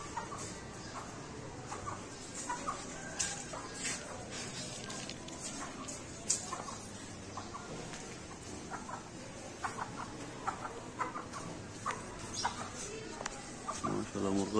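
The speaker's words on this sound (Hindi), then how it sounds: "ये मुर्गा मुर्गियाँ दोनों ये घूम रहे हैं" Paper white hens, chicks and a rooster roam around a home yard, clucking in scattered, repeated calls at close range while someone talks over them.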